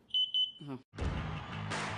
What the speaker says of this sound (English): But you can beat the beep, by getting a new kitted carbon monoxide alarm now.